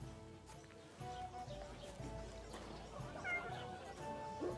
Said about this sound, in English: I heard a little kitty.